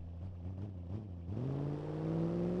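A car engine on a Pikes Peak descent labors at a steady drone, then surges to a higher, louder strained pitch partway through and holds there, close and continuous with no talking.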